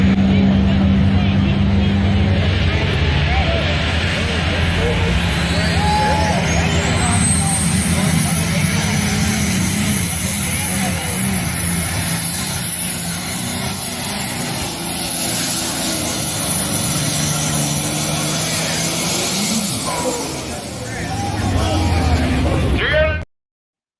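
A modified pulling tractor at a 2015 Motorsports Mayhem tractor pull in Richland Center roars at full throttle for about twenty seconds. The loud, sustained engine noise wavers slightly, then cuts off abruptly.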